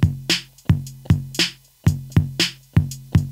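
Alternative kit preset on an AeroBand PocketDrum II Plus electronic drum set: a sparse beat of booming, resonant kick-and-snare hits with bright splashy tops, about two per second, close and clear with no voices.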